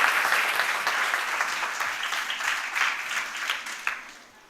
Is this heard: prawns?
no